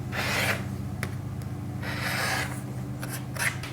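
A rotary cutter slicing quilt block cotton along a ruler, giving a few close, dry rasping strokes with brief pauses between them.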